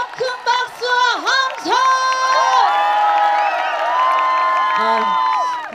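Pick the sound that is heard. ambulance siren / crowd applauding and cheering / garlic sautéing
crowd applauding and cheering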